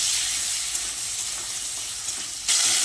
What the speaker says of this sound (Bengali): এবার আলুটাকে লালচে করে ভেজে নেব।